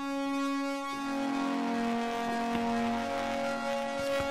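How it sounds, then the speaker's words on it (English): A sustained synth patch on a DRC synthesizer, processed with vinyl distortion and reverb, holds a buzzing, harmonically rich drone with a gliding pitch and faint gritty crackles, played alone. "then we got this vinyl distortion."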